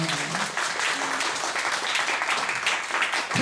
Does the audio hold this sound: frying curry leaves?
no